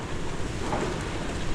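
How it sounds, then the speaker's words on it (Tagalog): Steady, loud roar of strong typhoon wind outside in Muscat buffeting the microphone, a continuous rushing noise with no voices. "ang lakas-lakas talaga ng hangin sa labas"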